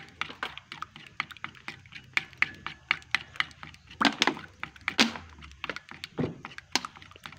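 A utensil clicks and taps rapidly against a bowl while egg, shrimp paste and MSG are stirred together, producing a dense run of sharp knocks with a few heavier thunks.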